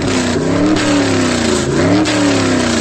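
Car engine revving steadily in a Unity game, a continuous loud mid-pitched drone with rising and falling tones that climb, drop and climb again over a few seconds.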